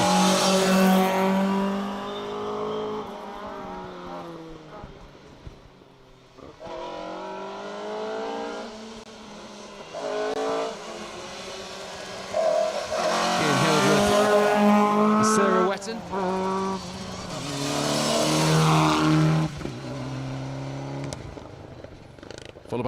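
A Mitsubishi Evo 6 rally car on an asphalt special stage revs and passes, engine note rising and falling with tire noise, while a commentator talks over much of the sound.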